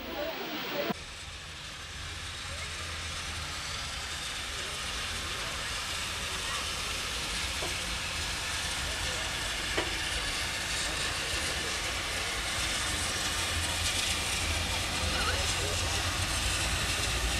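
Nearly century-old steam locomotive No. 403 pulling out on a heritage railway line in the Ardèche, a loud sustained roar and hiss of escaping steam that starts abruptly and holds steady and close.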